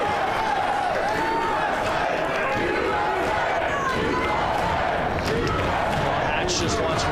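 A large crowd roaring and cheering at a Mosconi Cup pool match, a loud dense sustained wall of voices and shouts with excited swells, filling the space throughout.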